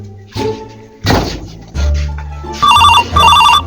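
A telephone rings in a comedic village skit. A few dull thumps come first, then repeated loud electronic ring bursts close by.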